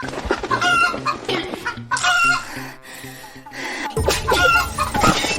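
A large-combed rooster clucking and squawking repeatedly, loud and close, with busy overlapping sounds and a brief quieter gap midway.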